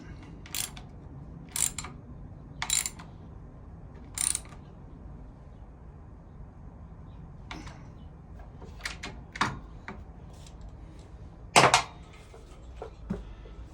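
A 10mm bolt being tightened on the clutch of a 1986 Honda CT110 gives sparse, quiet metallic clicks and ratchet-like ticks, spaced irregularly over a low, hushed background.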